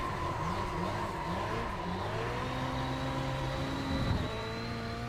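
A rallycross car in the racing game iRacing on a very short track, its engine revving and shifting loudly and steadily throughout.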